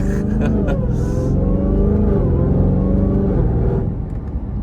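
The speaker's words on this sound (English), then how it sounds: "you guys got a little bit of the noise of the Hellcat" Tuned Dodge Hellcat Redeye heard from inside in traffic, a loud low engine rumble with a rising supercharger whine as it pulls and shifts, steady then easing off near the end.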